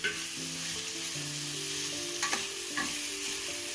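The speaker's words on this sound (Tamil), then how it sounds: "இப்போ நம்ம கட் பண்ணி வச்சுருக்க கொடை மிளகாய் அதையும் அதில் சேர்த்து நல்லா கிளற போகிறோம்" Chopped capsicum is stirred in a hot pan with scrambled-egg masala ingredients, giving a dense frying sizzle broken by a few spatula scrapes and knocks against the pan.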